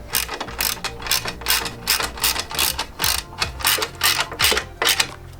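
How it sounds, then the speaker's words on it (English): Rapid bursts of ratcheting clicks from a 14 mm socket ratchet tightening a bolt while installing a car's cold air intake, close and loud, coming in regular strokes with no talking. "So grab again your big ratchet with the 14 millimeter"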